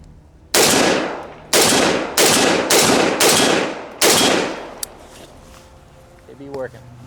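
AR rifle fitted with an SA piston kit fires six loud, sharp shots in an uneven rapid sequence during a function test, each with a ringing decay, followed by faint handling clicks and a brief voice.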